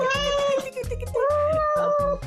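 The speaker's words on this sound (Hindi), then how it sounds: "इतना प्यार करते हो ना तो बिल्ली को संभाल के रखो" A pet cat meows repeatedly and loudly up close, drawn-out tonal cries in a steady series across the whole moment, with no talk over it.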